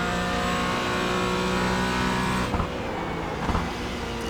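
Porsche Cayman GT4 in the iRacing sim on the Sebring circuit, engine held at full throttle with a steady loud drone that climbs in pitch, broken by two short shift blips near the end.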